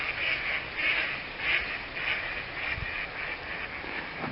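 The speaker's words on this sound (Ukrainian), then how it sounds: "Може не видно в цю камеру качок, але вони злетіли, тікають від мене." Ducks quacking as they take off and fly away outdoors by a stream, a run of repeated nasal calls in a steady rhythm at moderate distance, fairly faint over background noise.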